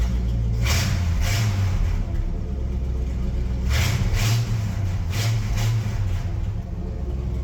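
Engine of a 1972 Ford F750 truck settling down from a raised idle, a steady low rumble with periodic swells, close and continuous with no talking.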